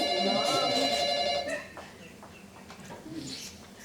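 A telephone rings with a bright, warbling electronic tone on a theatre stage, during a performance of Éric Assous's comedy Mon meilleur copain, then cuts off into quiet room noise.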